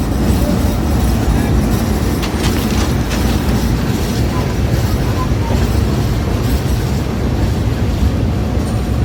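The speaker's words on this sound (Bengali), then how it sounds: "আমাদের ট্রেনটি এখন মাওয়া রেল স্টেশন প্রবেশ করলো।" A passenger train pulls into Mawa railway station, its steady rumble and rail clatter loud and continuous throughout, with faint wheel noise rising over the dense low roar.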